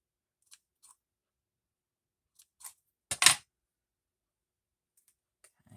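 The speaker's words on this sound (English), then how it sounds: "You just have to cut the stitches." Scissors snip fabric stitches in a few sparse, close clicks, with one louder crisp cut in the middle amid near silence.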